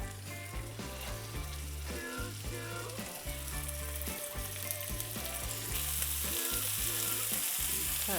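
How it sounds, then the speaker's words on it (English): Homemade sausage fries in a lightly oiled pan, a constant sizzle with a steady rhythmic low pulsing and some tonal hum underneath, growing slightly louder toward the end, with no one speaking. "And we're going to add the sausage."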